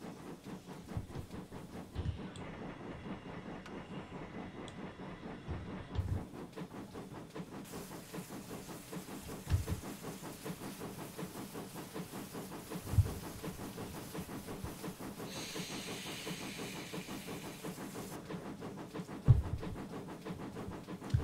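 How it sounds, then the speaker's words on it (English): A train vaporizer in a railway video game releases water vapor as a soft, steady hiss in two separate bursts, heard over a low rumbling train ambience with a few faint knocks. "That's water vapor, that's not steam."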